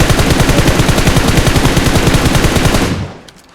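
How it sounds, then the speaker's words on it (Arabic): An Uzi submachine gun fires in a video game as a rapid, steady burst of many shots at even rhythm, loud and close, ending abruptly with a short fading tail. "من اول طلقة ضربتها بالاوزي ما ضيعت"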